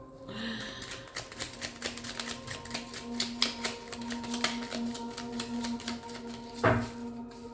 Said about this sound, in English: I gotta reorganize my cards because this deck is still, like I said earlier, difficult to shuffle.